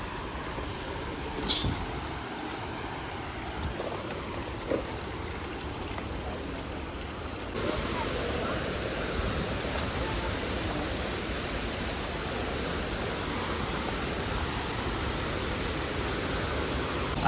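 A mountain river rushes steadily near a waterfall in Uttarakhand, a broad constant roar that grows louder partway through, with no talk over it.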